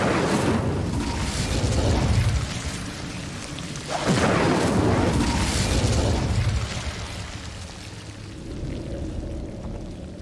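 Incendio fire spells cast in Hogwarts Legacy: two loud, roaring whooshes of flame, each swelling and then fading, followed by a quieter rumble that tails off.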